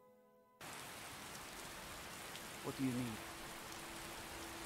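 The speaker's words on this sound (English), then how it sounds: "And, of course, it's raining." Steady rain falls in the video game Skyrim after a brief quiet start, a continuous hissing downpour with a short spoken line from a character partway through.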